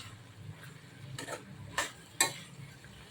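A spoon stirs a dry val papdi bean vegetable with fresh coriander in a pan, making a few short, faint scraping strokes over a quiet background, with no voices.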